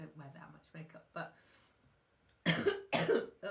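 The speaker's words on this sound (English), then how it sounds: "The cough's back." A person coughing several times in short bursts, near and loud, with a couple of forceful coughs toward the end and a brief quieter vocal sound between them.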